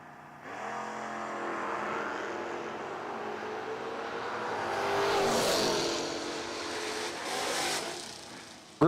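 Drag race car at a footbrake challenge event, its engine note building loudly and steadily, rising in intensity as the car launches and pulls away, with a sharp sound at the very end.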